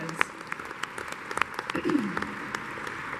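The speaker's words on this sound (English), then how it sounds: "let's give Mary Lou a round of applause that hopefully she can hear from wherever she is" Applause from a keynote audience at a CCC 2017 conference hall, a spread of scattered claps that thickens slightly toward the end, fairly soft and roomy with no talking over it.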